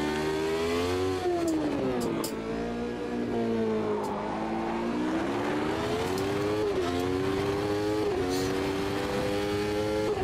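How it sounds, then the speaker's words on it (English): A race car engine in the Automobilista 2 sim racing game drones steadily, its pitch rising and falling through gear changes as traction control cuts in, continuous and alone. "Certainly hear the traction control working well."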